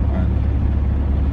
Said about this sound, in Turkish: Ve şu an biz burayı 4. viteste çıkıyoruz.